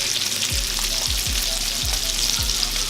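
Bacon and sausages frying on a 36-inch Blackstone griddle, a dense, steady close sizzle with several soft scraping or flipping taps spaced through it.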